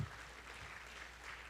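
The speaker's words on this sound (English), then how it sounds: "Big round of applause" An audience at a dance arangetram applauds, a faint, steady wash of clapping from a crowded hall, brief and without talk.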